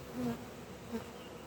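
Honey bees hum and buzz at a beehive in an apiary, a faint, steady drone with two slightly louder passes of individual bees close by.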